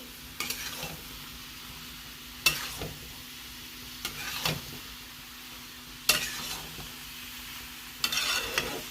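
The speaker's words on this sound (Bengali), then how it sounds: "সয়াবিনটাকে ভালো করে এটার সাথে মিশিয়ে নেব" Small soybean chunks stirred into masala in a pan: a low background sizzle broken by five distinct scraping strokes of a spatula against metal, close and moderately loud, with no voices.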